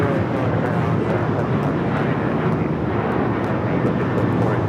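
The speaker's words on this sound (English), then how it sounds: "This is Alaska Airlines 437 taking off to Puerto Vallarta on the 737-900 ER" An Alaska Airlines Boeing 737-900ER jet takes off from LAX bound for Puerto Vallarta, a loud steady broadband engine roar holding evenly throughout with no talk.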